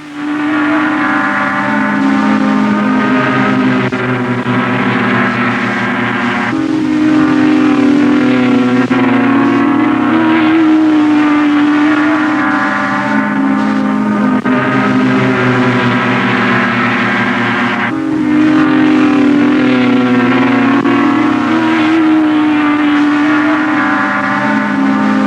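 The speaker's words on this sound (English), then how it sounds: "Out come the saloons for the traditional Mini versus Ford battle." Mini and Ford saloon racing cars on a circuit, engines roaring loud and close in sustained rising and falling pitch sweeps as the cars accelerate and shift gears, with no talk.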